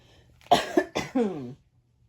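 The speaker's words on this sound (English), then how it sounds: "I had a feeling I was going to cough" A person coughs several times in a quick, close burst, the last cough drawn out and raspy, then silence.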